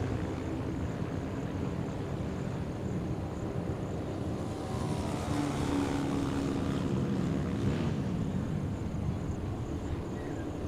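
Racing motorcycles at an Indian national championship race pass through a corner sequence, their engines a steady broad drone that swells midway as the bikes go by, with no talk over it.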